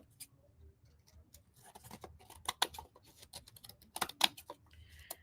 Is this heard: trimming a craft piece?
yes